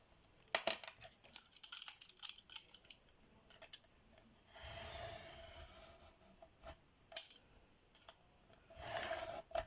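Paper being cut with scissors for a scrapbook page, a series of close, crisp snips and sliding cuts in short bursts with pauses between, no talking.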